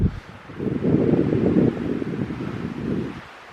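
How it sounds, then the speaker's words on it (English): Wind gusts buffet the microphone in a forest, a low, rumbling roar that rises and then eases off. "Windy."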